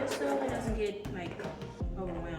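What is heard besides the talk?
No everyday noise stands out behind the speech.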